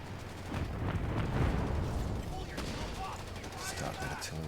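Artillery barrage explosions in Company of Heroes 3 rumble and crackle in a dense swell that peaks, then thins into scattered blasts and gunfire, with battlefield voices over it.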